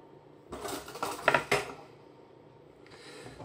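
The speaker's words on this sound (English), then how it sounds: "I just want to sort of stir it around a bit" A spoon clinks and scrapes against a glass of Super Bock stout beer, a couple of bright metallic taps among soft swirling rubs, close and fairly quiet with no voice.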